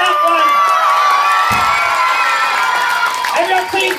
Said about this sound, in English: Last throw, the crowd goes wild.